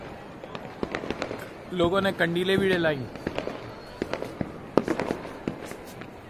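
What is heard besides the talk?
firecrackers and fireworks bursting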